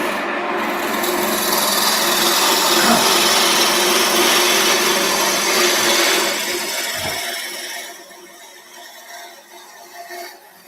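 A woodturning gouge cuts into wood spinning on a lathe, a loud, close, continuous rasping scrape that holds for about seven seconds, then eases off into lighter, intermittent cutting.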